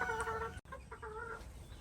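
Bantam hens cluck in a farm coop, a close series of short, throaty clucks and drawn-out calls with a brief gap midway.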